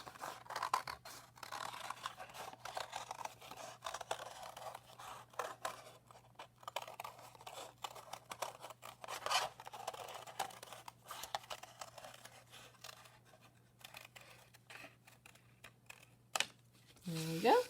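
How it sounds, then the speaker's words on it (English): Scissors snip steadily through material along a traced circle outline, a long run of close, quick cutting clicks and scrapes, with a person talking at times. "Then you are going to cut that shape out."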